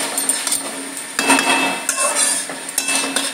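Clattering metal clinks as a lid goes back onto a cooking pot of sajne phool posto, a few sharp taps and scrapes close up in a home kitchen.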